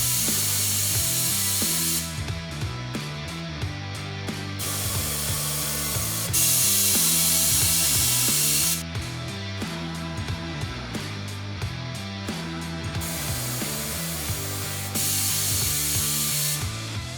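A Rotary R146RP tire changer works on a reverse-mount wheel and tire during bead breaking. It gives repeated loud mechanical ratcheting and pneumatic bursts, with hissing blasts between stretches of clanking, and no talk.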